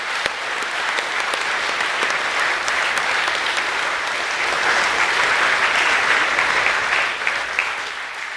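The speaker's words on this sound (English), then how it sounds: "Could you please join me in acknowledging them with a round of applause in a show of appreciation for their efforts" A school assembly audience gives a sustained round of applause for college staff and caregivers, a dense, even wash of many hands clapping that swells slightly midway, with no talking.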